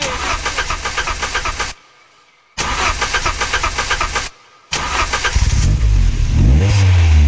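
A car engine cranks in two loud bursts separated by short silences, then catches on the third try and revs up strongly, close and loud, at a club event in Genova.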